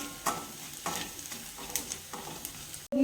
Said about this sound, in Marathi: तळला गेलाय कांदा आता छान.